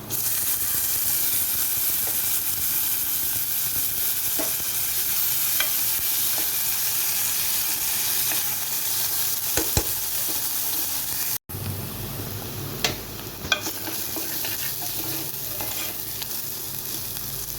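Garlic, onion and curry leaves frying in a pan for egg thokku, a loud steady sizzle with occasional spatters and stirring clicks, fresh bursts after a short break.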